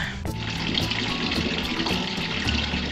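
Water runs steadily from a tap at a home, a continuous close splashing flow filling the sink with a bright hiss, with a low hum and faint clatter underneath.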